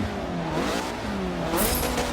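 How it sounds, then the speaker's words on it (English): A race car's engine revving on the starting grid in Forza Motorsport 7, a short rising and falling roar, loud and close, with no talk. "Doing a little revving"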